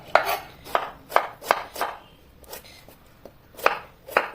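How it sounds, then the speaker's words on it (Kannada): A knife cuts beetroot into small pieces for beetroot halwa, giving a quick, irregular series of crisp close chops on a board with short pauses and no speech. "ಇನ್ನಿದನ್ನು ನಾವು ಚಿಕ್ಕ ಚಿಕ್ಕದಾಗಿ ಕಟ್ ಮಾಡಿಕೊಳ್ಳುವ."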